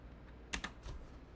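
A couple of quick keystrokes on a computer keyboard, two close clicks followed by a softer one, faint and isolated against a quiet room.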